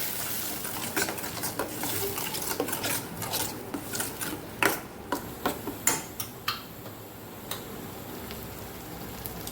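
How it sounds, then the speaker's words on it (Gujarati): Onion and garlic chutney sautéing in oil in a pan, with a spoon scraping and stirring in repeated strokes over a steady soft sizzle; no talking. "આમાંથી તેલ છૂટું પડે ત્યાં સુધી આપણે મસ્ત એવું સાતળી લેવાનું છે"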